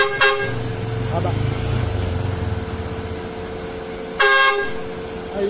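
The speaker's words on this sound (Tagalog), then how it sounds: "Ayan, napakalakas ng busina." A loud Nelson LED vehicle horn blares in two short honks, one at the start and another near the end, over a steady droning tone and low engine rumble, with voices talking in between.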